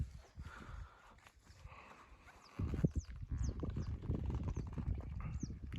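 Grazing horses walk over open pasture, their hooves thudding softly at first, then clopping louder and closer in an uneven, shuffling rhythm with no talk.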